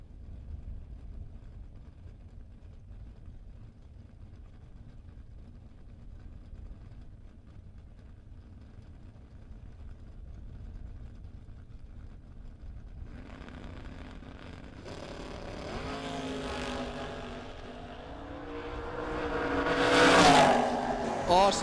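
A Westminster, Maryland-based Camaro race car at a drag race sits at a low, distant rumble for a long stretch, then its engine swells into a loud, rising rev and launch toward the end.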